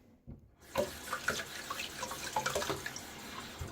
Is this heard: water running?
yes